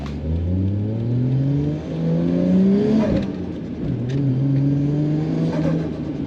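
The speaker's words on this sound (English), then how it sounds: "I can really hear the exhaust leaks now, which is mildly annoying, but I know the exhaust leaks are there." A Toyota JZX100 with exhaust leaks drives along, its engine note rising steadily through the gears with a dip at each shift, loud and close from inside the car.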